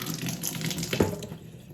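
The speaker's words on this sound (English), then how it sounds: "I'm going to run the Kangen water, okay, while it's on this screen." Kangen water runs steadily from a K8 water ionizer machine into a container, a continuous splashing faucet-like stream with a brief louder gurgle near the middle, heard close and alone.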